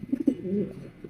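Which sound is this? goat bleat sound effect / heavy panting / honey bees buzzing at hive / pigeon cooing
pigeon cooing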